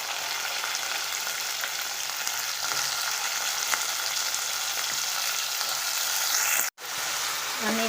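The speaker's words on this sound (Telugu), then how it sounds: "అల్లం పేస్ట్ కూడా బాగా ఆయిల్లో వేగనివ్వాలి" Ginger paste, brinjal and tomato fry in hot oil with a steady, close, continuous sizzle and crackle, broken by one very brief dropout near the end; no one talks.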